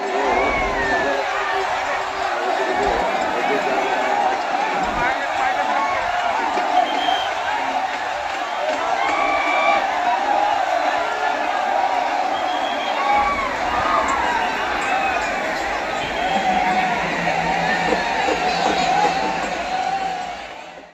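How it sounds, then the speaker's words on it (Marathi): A huge crowd of pilgrims fills Saundatti hill during the Shakambhari Purnima fair for the goddess Renuka, a steady dense murmur of many voices with scattered calls and distant vehicle noise running the whole way through. "यात्रेनिमित्त लाखो भाविक डोंगरावर दाखल झाल्यामुळे डोंगर गर्दीने फुलून गेला होता"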